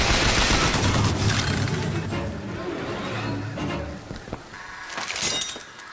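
A rapid-firing gun in the BioShock Infinite shooter lets off dense bursts of shots mixed with crashing and shattering impacts, loud and close, then thins into scattered cracks near the end.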